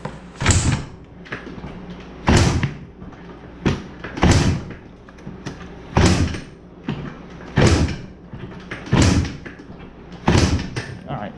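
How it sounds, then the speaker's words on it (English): A cold 2004 Yamaha Blaster ATV engine being kick-started outdoors in freezing weather: a series of about seven heavy, evenly spaced thumping kicks, each a brief rough churn that fails to catch. "We'll give it a couple kicks and it should fire right up."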